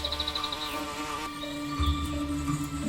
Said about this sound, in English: The bee flies even closer.